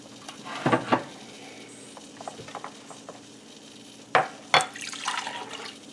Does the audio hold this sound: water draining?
yes